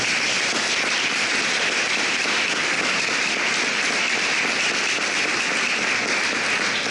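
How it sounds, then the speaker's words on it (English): Loud, dense applause from an audience at an evening gathering honoring family roofing and air conditioning business partners, a steady wash of many hands clapping without pause throughout, with no talk over it. "Can you please give these guys a huge round of applause?"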